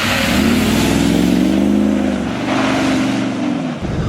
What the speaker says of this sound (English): You just gotta love the sound of this engine.